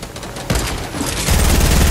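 Bursts of rapid gunfire in the video game Fortnite, loud and close, with a heavier sustained volley in the second half.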